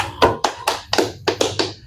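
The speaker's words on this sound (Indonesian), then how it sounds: "Tepuk tangan." Seven sharp hand claps, evenly spaced and close, ring out alone at a talk show opening, with no voices underneath.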